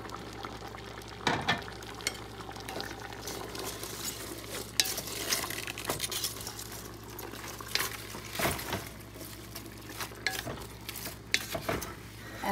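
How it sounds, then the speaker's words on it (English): Chicken frying in a pot for Moroccan couscous, with washed cabbage being added: a constant sizzle and bubbling with stirring scrapes and clatters throughout, loud and close, no talking. "My chicken is frying. I'm gonna add my cabbage in there after I washed it into my chicken."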